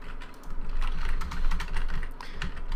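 Continuous fast typing on a computer keyboard, dense overlapping clicks of keys at close range, fairly loud and steady throughout with no talk over it.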